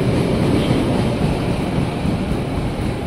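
A Manahan passenger train hauled by a CC 203 locomotive, with stainless steel executive cars, passing through Jatinegara station. A loud, steady rushing roar stays close throughout.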